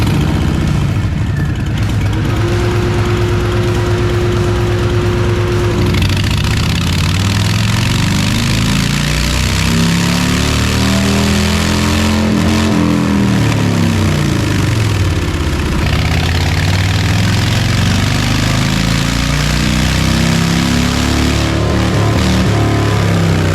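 Stock Harley-Davidson motorcycle engine on a dyno with stock limiters, idling with a steady low rumble, then revving hard through rising and falling pulls in the higher gears, loud and close throughout.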